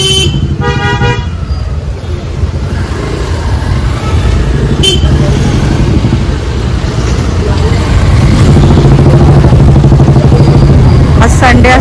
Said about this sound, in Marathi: संडे असल्यामुळे खूप ट्रॅफिक आहे.